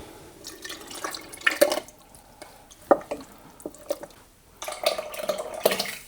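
A little water is added to a jar of marinara sauce and stirred in, giving intermittent wet sloshes, drips and scraping swirls in uneven bursts with short quiet gaps.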